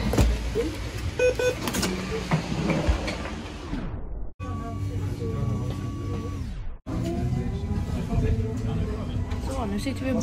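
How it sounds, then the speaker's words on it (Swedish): A city bus pulls in to a crowded stop in Stockholm, its engine hum and mechanical noises rising near and loud with brief hissing pauses, while people talk around it. "Men nu ser jag bussen komma."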